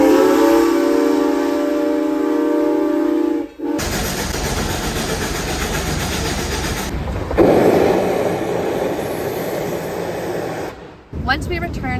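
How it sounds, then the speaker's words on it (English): A steady, loud rumble runs without a break, with a few abrupt shifts in tone, from a train ride between Durango and Silverton in Colorado. A voice seems to sound faintly beneath it. "we were going to do a train ride from Durango to Silverton and back"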